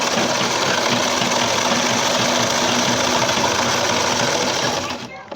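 A sewing machine runs steadily, stitching a churidar pajami round its full circumference. The close, even motor whir and needle clatter continue unbroken before stopping abruptly near the end.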